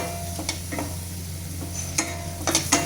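Tomato paste being fried and stirred in a pan, a soft background sizzle broken by several short clicks and scrapes of a spoon against the pan.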